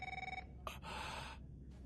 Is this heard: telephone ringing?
yes